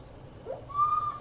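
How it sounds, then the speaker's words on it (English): An owl gives a single soft hoot, followed by a clear sustained whistled tone, faint against a quiet background with no talking. "You cute little bird."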